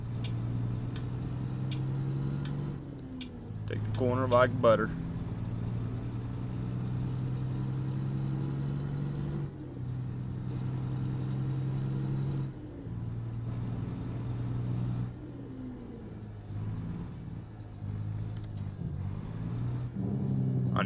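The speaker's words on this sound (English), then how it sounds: "Gotta use our actual brakes along with the Jake here to get slowed down enough, since we are hauling doubles." A semi-truck hauling double trailers slows with its engine brake and air brakes, giving a steady low engine drone with brief hissing bursts and a rising rumble, and someone talks briefly over it in the cab.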